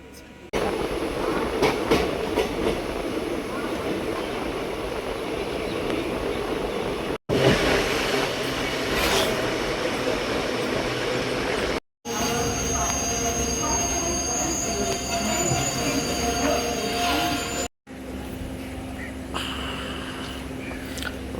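Kaveri Express passenger train running on rails, a loud sustained rumble with squealing wheels and rhythmic clatter heard from inside, broken by a few brief cuts, with faint voices in the background.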